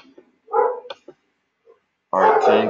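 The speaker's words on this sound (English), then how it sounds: "The dog is actually in the compound." A dog inside a compound gives several short barks and yips in quick bursts, followed by a louder, sustained stretch of barking or whining near the end, fairly close and with no talk over it.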